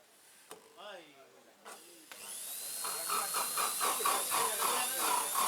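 Voices talk briefly, then a high-pitched drill whines up and runs steadily, its tone pulsing as it bites in.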